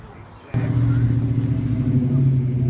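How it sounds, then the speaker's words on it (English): A 1955 Ford convertible at the Springfield Days car show starts with an abrupt jump into a loud, steady low rumble that holds close and constant. "1955 Ford convertible at the Springfield Days car show."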